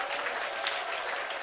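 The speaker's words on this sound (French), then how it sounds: "Donnons une acclamation au Seigneur." A church congregation claps in brief, steady applause that fills the space, busy and fairly close with no voices standing out.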